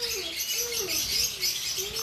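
A pet lovebird, an orange-headed parblue ino opaline, gives soft repeated chirps, a short series of rising and falling whistled notes close by and fairly quiet, with no talk.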